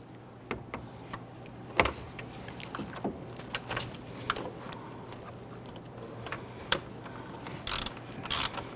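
Ratchet loosening an intake manifold bolt on a 2011-2015 Kia Sorento: faint, scattered clicks and metallic ticks at an irregular pace, close by, with a low steady hum underneath and a few sharper taps.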